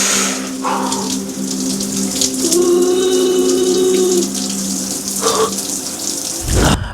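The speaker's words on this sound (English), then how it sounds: "This is my first POV with the mic getting in the cold shower." Cold shower water pours steadily and close by, a continuous hiss of running water with slight shifts in flow and a brief louder burst near the end.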